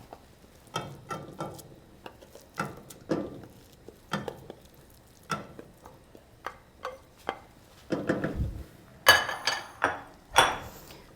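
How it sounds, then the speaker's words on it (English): A spoon scrapes mashed fava beans for ful medames back into a cooking pot, with a series of irregular metallic clinks, knocks and scrapes against the pot at close range, slightly louder toward the end, with no voices. "I'm going to add that back to the pot."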